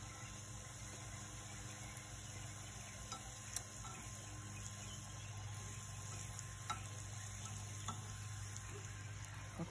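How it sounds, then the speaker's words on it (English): Quiet, steady sizzling of fry bread frying in hot oil with faint crackles and occasional pops over a low background hum. "I hear it sizzling"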